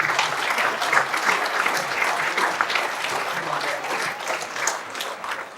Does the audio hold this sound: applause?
yes